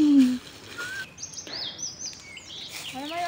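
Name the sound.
birds calling in a jungle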